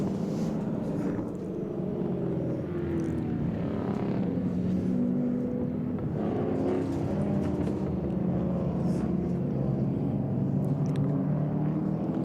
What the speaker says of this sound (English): The car following it is a Donington Park Mobile VK Commodore